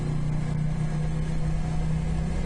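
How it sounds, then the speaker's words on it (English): Motorcycle engine droning steadily and echoing inside a supermarket car park, a continuous low hum at moderate volume with no talk. "The bike always sounds better in here"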